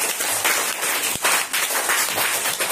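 A group of students clapping together in a classroom, a dense, continuous burst of hand claps filling the clip at close range.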